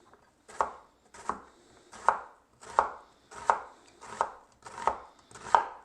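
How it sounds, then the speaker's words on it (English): A knife cuts an onion lengthwise into strips on a cutting board, producing eight crisp, evenly spaced chops about two-thirds of a second apart, close and clear with no talking. "now I'm just going to cut it into strips lengthwise"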